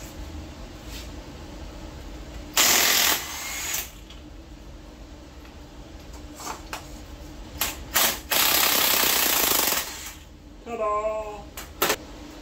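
A ratchet works a pulley off a 1964 Ford 390 FE engine during a teardown, giving several short bursts of clicking separated by quiet gaps, with faint talk nearby.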